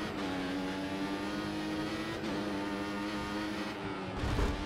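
An F1 race car engine in F1 2014, driven around Monaco, whines steadily at high revs close up, with the pitch dipping briefly mid-run and a gruff burst as the throttle changes at the end.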